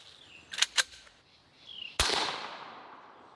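Sharp gunshot from a suppressed Desert Eagle .50 caliber pistol, a single loud crack followed by a long decaying tail, preceded by a few quieter clicks and thumps.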